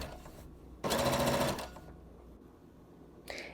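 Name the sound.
sewing machine hemming the bottom of a skirt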